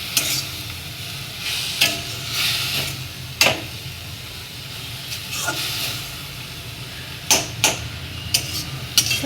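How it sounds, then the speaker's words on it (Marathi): Cowpea leaves frying in a pan as a vegetable dish, stirred steadily: a continuous sizzle broken by sharp scraping and clacking strokes of the spoon against the pan, close and fairly loud. "असं त्याला हलवत राहायचं आहे चवळीच्या भाजीला"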